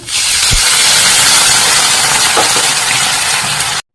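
Onions frying in a pan for a kochur loti (taro stolon) curry hiss and sizzle loudly and steadily after water is poured in, with a couple of brief clinks near the start and middle, and no talking.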